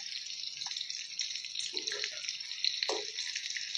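A steady bright sizzle of paneer-stuffed bitter gourds frying in a wok, fairly soft, with a few low scrapes and clicks as they are turned.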